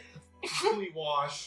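A single sharp sneeze bursts out close up, followed immediately by a short spoken phrase from another voice.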